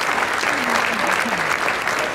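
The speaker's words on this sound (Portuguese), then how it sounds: "gostava que de vos pedir uma salva de palmas para o ministro Correia," A crowd gives steady, dense applause at a fado performance in Ponta Delgada, brief and continuous, with a faint voice underneath.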